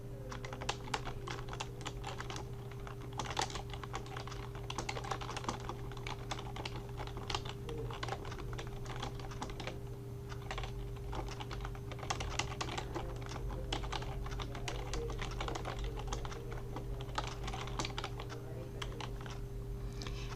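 Fingers type steadily on a computer keyboard, entering text into a shape in CorelDraw, with soft, quick, irregular key clicks over a low constant hum for about twenty seconds.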